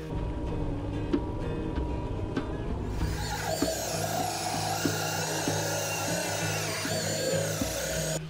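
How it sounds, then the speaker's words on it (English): A power drill bores a hole through a stacked slate water fountain urn, a steady loud whirring grind that starts after a quieter opening and runs continuously with small bumps in pitch. "So let's get this thing drilled out"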